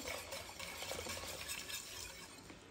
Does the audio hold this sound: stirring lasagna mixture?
yes